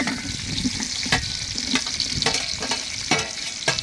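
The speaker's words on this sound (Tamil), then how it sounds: "வெங்காயம் பச்சை மிளகா போடுறேன்" Onion and green chillies fry in hot oil for a Christmas biryani, making a steady, close sizzle broken by repeated sharp clinks and scrapes of a stirring spoon, with no talking.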